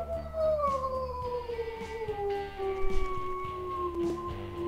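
A wolf in the WolfQuest video game lets out a long, sustained howl that slides slowly downward in pitch, clear and fairly close over a low, steady game soundscape.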